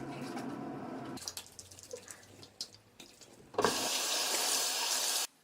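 Tap water runs into a bathroom sink during face washing, with scattered splashes and drips before a steady, loud stream gushes for a couple of seconds and then stops abruptly.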